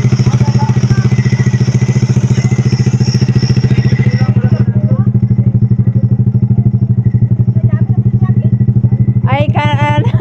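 A motorcycle engine runs with a loud, steady, rapid idling thrum close by, with clattering and light knocks over it and a voice speaking briefly near the end.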